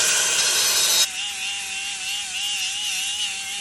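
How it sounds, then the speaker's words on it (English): A power grinder working metal during a Harley-Davidson electric motorcycle build, a loud harsh rasp that drops after about a second into a steady high whine with a wavering tone. "You're really good at grinding."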